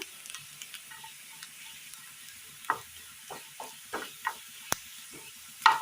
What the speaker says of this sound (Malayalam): ഉള്ളി അങ്ങനെ മൂത്ത് കിട്ടിയിട്ടുണ്ട്